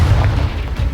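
A Confringo fire spell bursts in a Harry Potter video game, a heavy low boom with rumbling blast energy that fills the whole moment, loud and close.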